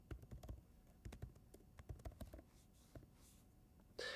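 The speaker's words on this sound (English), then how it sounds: "and type out my name." Typing on a computer keyboard, a quick run of clustered key taps in bursts followed by a pause, close and fairly soft, with a brief louder hiss at the end.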